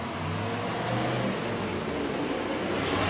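A steady broadband roar of road traffic as cars pass nearby, loud and continuous with no clear gaps between vehicles.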